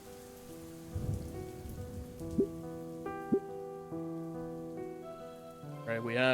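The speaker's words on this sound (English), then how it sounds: "Alright, we have little rainy-dainy moments." Rain in the video game I Wani Hug That Gator patters softly and steadily beneath sustained game music, with a few brighter plinks scattered through it.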